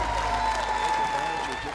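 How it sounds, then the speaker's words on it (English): A crowd at a Challenger Little League baseball game cheers and applauds, a steady wash of clapping and voices throughout the short moment. "The joy from the crowd."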